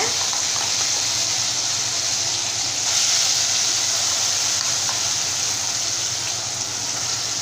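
Ground small-onion (shallot) chutney hitting hot oil tempered with curry leaves, giving a steady broadband sizzle and frying hiss that stays loud and even throughout, close up, with no talking.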